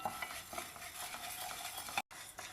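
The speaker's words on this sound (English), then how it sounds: "2 tablespoons of Tuvar Dal, 2 tablespoons of Channa Dal. First, we will dry roast these." Tuvar dal and chana dal dry roasting in a pan, continuous rattling and scraping of stirred lentils with a steady bright hiss and a brief gap near the end.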